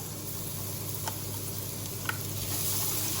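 Garlic sizzling in a pan of oil and butter left from cooking chicken breasts, a steady soft hiss with a few faint ticks and stirring clicks, close and even throughout.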